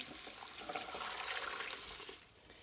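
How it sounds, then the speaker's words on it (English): Water pours steadily into a crock pot in a kitchen, a continuous splashing stream that sounds close but fairly soft and then tapers off slightly near the end, with no talking. "I'm going to get another 8 cups of water to put in here"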